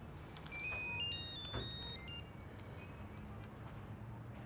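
A phone rings with a short electronic melodic ringtone, moderately close, playing for a couple of seconds over a low background hum before stopping.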